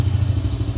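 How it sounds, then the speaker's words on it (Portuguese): A Honda Dream motorcycle engine idles with a steady low putter and fast even pulses, heard close and loud on its own. "Moto funcionando."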